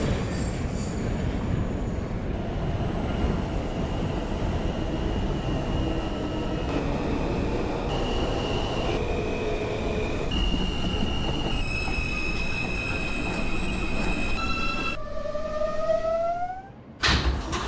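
An R160 subway train in the OpenBVE simulator, running as a Brooklyn-bound M train, rumbles steadily and loudly throughout, with rising motor whines, then a sharp upward sweep and a brief drop near the end.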